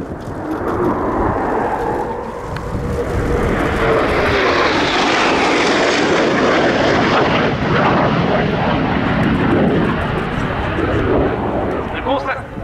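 A Eurofighter Typhoon FGR4 jet flies past at the RIAT 2019 airshow, its loud engine roar swelling and sweeping across the sky with a broad rushing rumble that holds steady for several seconds before easing, with faint voices underneath.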